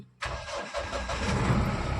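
A Mahindra Bolero pickup starts with a key: after a brief quiet moment the engine catches abruptly and settles into a steady, close idle.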